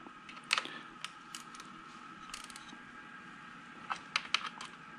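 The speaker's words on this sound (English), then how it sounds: "So just using a spanner, just to tighten these a little bit." A spanner tightening the front wheel axle bolts on a Beta 500 motorcycle, short bursts of quiet clicking ratchet-like metal ticks in two clusters, close and faint, with no speech.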